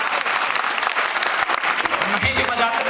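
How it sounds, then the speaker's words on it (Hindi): Audience at a Hindi comedy poetry show clapping loudly and steadily throughout, a dense crowd applause that thins slightly toward the end. "अगर सुनना चाहते हो तो ताली बजाओ"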